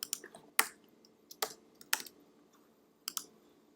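Keystrokes on a computer keyboard as a command is typed at a terminal, a sparse run of sharp clicks in small clusters with gaps between them, close and fairly quiet, with no talking.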